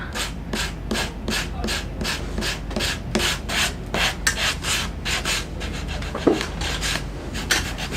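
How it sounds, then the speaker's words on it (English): A Gator sander with a softer, lower-grit pad scrubs wood on a Christmas tiered tray in quick, rhythmic back-and-forth strokes, loud and close with no talk. "We're going to start with the Gator sander with the little bit of a softer, lower grit"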